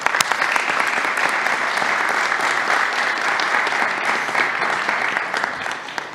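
An audience at a New York governor's news conference gives the National Guard a steady, loud round of applause that holds evenly from start to finish.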